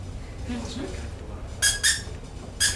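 A squeaker toy used in a stage magic act gives three short, bright squeaks in quick succession, following a stretch of low murmuring and faint room noise.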